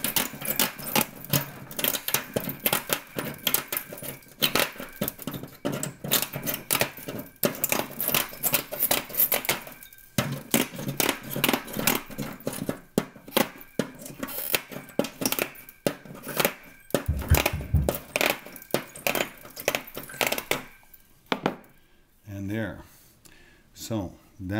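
Hand cutters snipping gold plated copper pins down to solder level, a long run of sharp metallic clicks and crunches in quick succession, loud and close, with a person talking in between.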